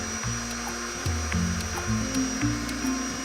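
An electric mixer slowly stirs blini batter of flour, egg yolks and milk, its motor whine shifting pitch in steps as the speed changes, close and fairly loud with no voices.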